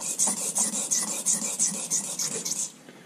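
A soft steel blade is worked rhythmically across a sharpening stone to grind a new edge bevel, about a dozen even rasping strokes, close and clear.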